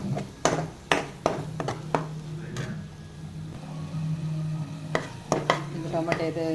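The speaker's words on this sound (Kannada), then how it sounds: "ಶುಂಠಿ ಬೆಳ್ಳುಳ್ಳಿ ಪೇಸ್ಟ್ ಫ್ರೈ ಆದ ನಂತರ ಈಗ ಟೊಮೊಟೊ ಸ್ವಲ್ಪ ಹಾಕ್ತೇನೆ" A spoon clinks and scrapes in a pan as tomato puree fries after ginger-garlic paste for rajma curry, with sharp metallic taps over a low steady hum and a soft sizzle, and a voice speaks briefly.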